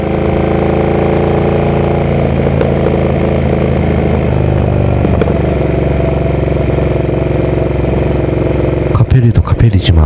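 A motorcycle cruises along the Geum River in autumn, its steady engine hum loud and close throughout, with a burst of wind buffeting or clatter near the end.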